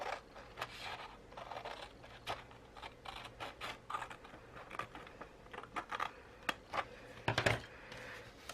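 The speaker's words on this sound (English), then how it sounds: "I'm going to cut the second page." Paper trimming on a personal planner page comes through as quiet, irregular snips and crisp clicks, close and faint, with a few sharper cuts clustered near the end and no talk.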